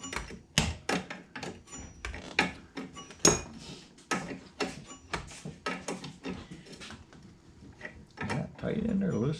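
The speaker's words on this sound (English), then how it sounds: "slide your socket right on top both of them," Socket ratchet working a bolt on a vintage Honda snowblower, heard as a loose, irregular series of close, sharp metallic clicks and knocks, with a brief rougher rustle near the end.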